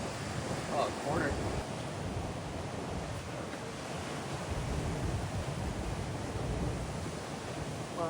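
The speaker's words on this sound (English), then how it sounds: "The waves are massive at this point in the trip" Massive ocean waves break and surf churns during Hurricane Erin, with heavy wind buffeting the microphone. A continuous loud, noisy roar rises and falls, with brief human exclamations near the start.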